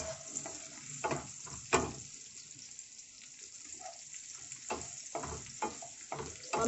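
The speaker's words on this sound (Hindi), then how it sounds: "ये हम इसको थोड़ा सा भून लेंगे।" Green chilies and garlic sizzle and crackle in a hot pan, with occasional sharp clatter from stirring; steady frying noise throughout, no talking.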